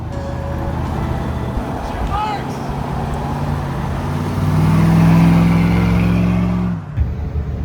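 A van truck's engine drones and rises in pitch on a freeway as it accelerates through a gear change, with a steady rumble and road noise. Voices talk over it, and it cuts off sharply near the end.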